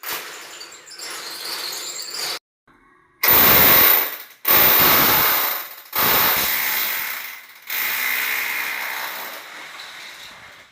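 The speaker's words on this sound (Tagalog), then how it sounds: "Barena lang yung ginagamit dyan mga kaibigan." A power drill whirs loudly in several bursts while installing a sliding window frame, each spinning up then cutting off, with brief gaps of quiet between them.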